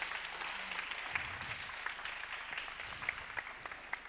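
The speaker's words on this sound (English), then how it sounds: "Big round of applause." Quiet, distant audience applause at a commercial dispute resolution conference panel, a steady soft patter of clapping throughout with a few sharper individual claps, no talk over it.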